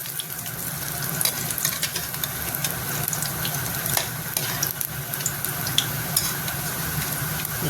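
Chickpea-flour pakoras fry in hot oil while being flipped, giving a loud, dense, continuous sizzle and crackle with small spatters throughout.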